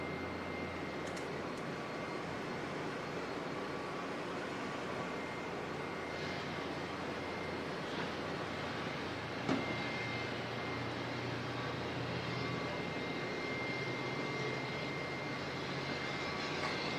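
An Airbus A330 jet arriving at Auckland Airport from Nadi gives a distant, steady engine rumble and whine that holds evenly throughout, faint against outdoor background.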